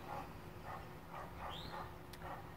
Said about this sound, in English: Can you hear my neighbor's dog?